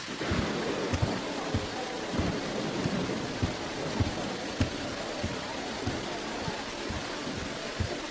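Steady heavy rain pours in a dense, continuous hiss, with soft low rumbles and occasional thumps mixed in, filling the scene without voices.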